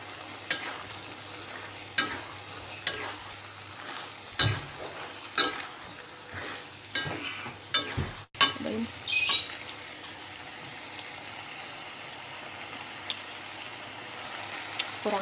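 Fried beef goes into a pan of wet balado chili sauce and is stirred, bringing a thump and a continuous sizzling crackle broken by scraping spatula strokes, with a sharp knock near the middle.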